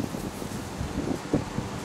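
Cold wind blows outdoors, a steady low rushing buffet against the microphone with slight gusts and rustle, continuous for the whole short stretch and not very loud.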